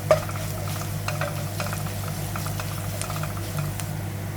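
Egg curry masala with coriander powder is stirred in a pan with a low sizzle and frequent light scraping. A faint, steady hum from the stove or kitchen sits beneath the cooking.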